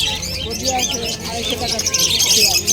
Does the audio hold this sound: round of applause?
no